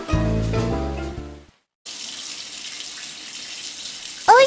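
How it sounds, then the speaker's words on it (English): Shower water runs in a steady, close hiss after a short burst of music and a brief silence, with a quick chirpy sound near the end. "I take a shower."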